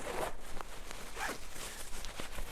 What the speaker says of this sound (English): So there's a zipper here going on the inside, and you can fully remove the shell.